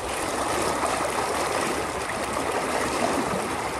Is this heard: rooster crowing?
no